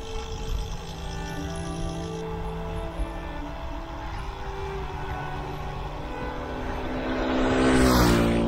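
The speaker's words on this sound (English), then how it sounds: "It looks like from here that plane's only just clipped that top of that hill." A propeller airplane passing over a hilltop in the distance, its engine drone faint under outdoor ambience and then swelling louder near the end as it comes closer.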